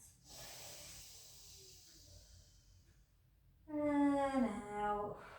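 Slow, deep breaths drawn in and let out during a Pilates spinal stretch: a long soft airy inhale, a pause, then a louder breathy exhale with a slight nasal, snorting edge, close and alone.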